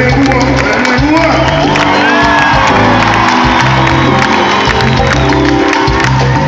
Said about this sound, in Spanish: aplauso para los bailarines de Cuba